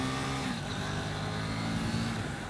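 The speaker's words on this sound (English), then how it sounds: "So that stock exhaust sounds okay," A 2018 KTM Duke 790 middleweight motorcycle with its stock exhaust runs steadily, a loud, close engine drone with a brief drop in pitch as revs change.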